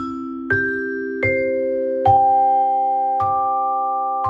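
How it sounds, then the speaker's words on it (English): Vibraphone struck with mallets, five separate bright notes rising in pitch, each ringing on with a long sustained tone that overlaps the next. Close and clear, with no talking. "So, Vibraphone, here we go."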